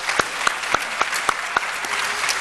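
A crowd at a formal anniversary commemoration applauds the chairperson, a judge, with continuous dense clapping and a few sharp, evenly spaced louder claps standing out above the rest.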